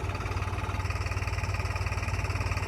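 A New Holland tractor pulling a loaded sugarcane trolley runs close by, its diesel engine throbbing in a steady, fast, even pulse that stays loud and unchanging throughout.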